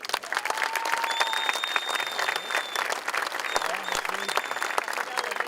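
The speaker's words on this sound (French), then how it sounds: "Merci de les applaudir." A crowd claps enthusiastically in a lively, continuous burst at a live arrival ceremony, with tonal whistles or horns and voices mixed into the clapping.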